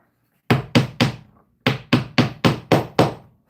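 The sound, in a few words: wood mallet striking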